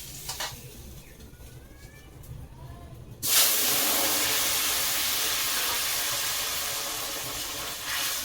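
Curry poured into a hot pan erupts into a loud, sudden sizzle partway through, then a steady hiss that slowly fades, following quieter kitchen noises.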